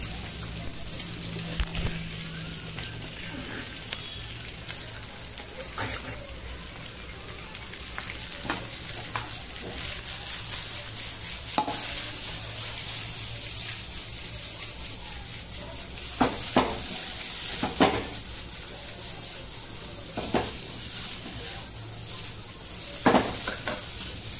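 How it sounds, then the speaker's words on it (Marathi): Egg noodles stir-fried in a hot pan at home, with a continuous close sizzle under repeated scraping and stirring strokes and occasional louder clanks of the utensil against the pan, with no talk. "त्याचबरोबर थोडंसं मी नूडल्स टाकून घेते।"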